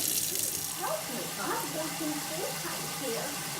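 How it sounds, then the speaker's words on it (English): Hot water runs steadily from a kitchen sink faucet into a condo unit's newly unclogged drain, a continuous broadband hiss and splash with voices murmuring faintly in the background. "So we'll keep the hot water running."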